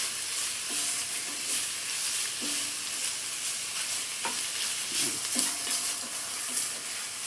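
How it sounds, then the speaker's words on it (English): Meat browns in a pot over medium heat with a gentle continuous sizzle, broken by a few scraping stirs and clinks, moderately quiet and close. "I'm browning this on a medium heat. I don't want it to cook too fast."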